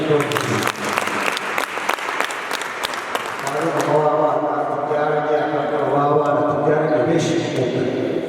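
A church concert audience claps loudly for Pastor Jessica Rwende, a dense burst of applause that fades under someone speaking and sustained crowd noise.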